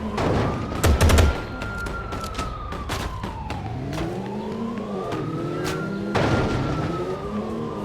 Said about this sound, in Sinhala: ඊට පස්සේ පොලිසියෙන් වෙඩි තියනවා